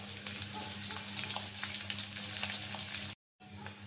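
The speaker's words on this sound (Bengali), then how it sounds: "তেল দিয়ে দিলাম, পেঁয়াজ আর কাঁচামরিচ" Onions and green chilies fry in oil with a dense, steady sizzle and scattered crackles, close and unbroken apart from a brief dropout near the end, with no talking.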